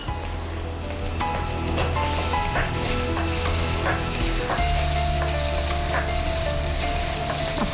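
Split small green chillies sizzling and frying steadily in hot oil in a pan for a Kerala fish masala curry, with occasional clinks of a stirring spoon against the pan.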